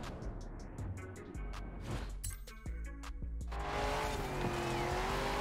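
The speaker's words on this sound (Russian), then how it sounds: "Бля, ее так заносит." A car in the racing game Forza Horizon 4, driven with a steering wheel, slides out of control with a steady engine drone and whining tire squeal, building louder toward the end.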